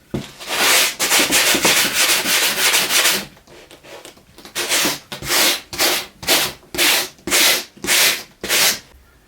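A nylon brush scrubbing leftover foam off a car headliner: a burst of rapid continuous scrubbing, a brief pause, then slower distinct rhythmic strokes, close and loud, with no talking.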